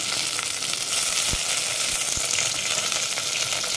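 Mint and coriander leaves frying and being stirred in a pan for soya biryani, giving a steady, close hiss of sizzling oil with two soft low thuds from the stirring.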